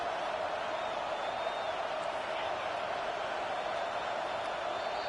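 A stadium crowd at an NCAA college football game roars steadily and loudly during overtime, forming a dense, unbroken wall of noise with no clear talk.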